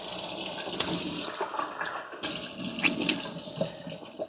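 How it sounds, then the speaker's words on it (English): Tap water runs steadily into a sink while someone rinses their mouth, with small splashes and gurgles over the continuous flow, close by and fairly quiet. "I just went and spit it out and like rinsed my mouth out"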